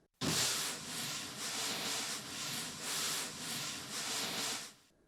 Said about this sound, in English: and it is a long brush sound.